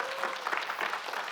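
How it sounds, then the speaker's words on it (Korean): A short burst of studio audience applause on a Korean government talk broadcast, a quick flurry of clapping at moderate level. "여러분 큰 박수 한번 부탁드리겠습니다"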